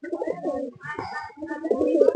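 A male tournament-racing pigeon coos close by in a few soft, throaty rolling phrases.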